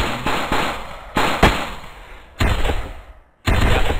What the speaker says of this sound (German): das war eine Kalaschnikow